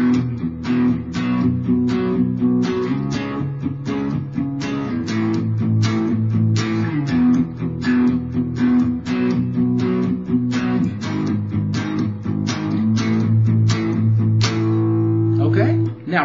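Guitar playing the chord progression of a song, with steady strummed chords that ring loud and close without a break.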